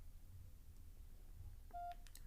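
A small push-button phone gives off a single short keypad beep, faint and close, against a quiet low room hum while confirming a mobile recharge.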